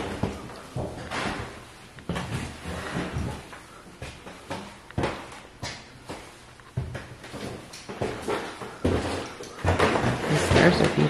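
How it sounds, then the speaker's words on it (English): Old wooden floorboards and stairs in Beck Mansion creak and knock under shifting footsteps, close and fairly loud, in irregular bursts with brief pauses and a louder stretch at the end. "Hopefully you can hear me over the creaky floor."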